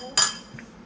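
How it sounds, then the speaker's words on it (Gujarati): A utensil clinks sharply against a dish or bowl while sauce, honey mustard, is mixed for a cheesy Mexican sandwich, one bright metallic strike followed by a faint softer tap, close and brief. "જિગ્નેશ અત્યારે સોસ ને બધું મિક્સ કરી રહ્યું છે"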